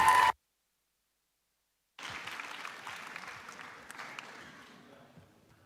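Applause from an audience at an entrepreneurship conference as a team takes the stage, beginning after a short burst of sound and nearly two seconds of silence, then steady moderate clapping that gradually tapers off.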